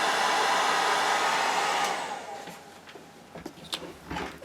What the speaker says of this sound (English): hairdryer is the answer.